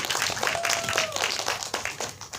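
Steady applause from an audience at a press conference announcing a film's cast, with a dense crowd clapping for the whole stretch and a faint voice passing through.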